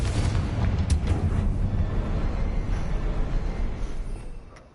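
Confringo fire spell explosion in the Hogwarts Legacy video game, a deep booming blast with a rumbling low-end tail that fades out, accompanied by a few crackling bursts.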